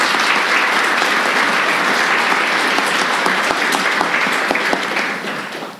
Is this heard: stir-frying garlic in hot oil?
no